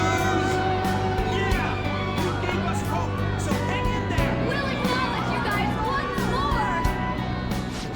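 A large crowd cheers and chatters in a Persona 5 Royal cutscene, a busy wash of many voices with scattered whoops, running steadily under the scene.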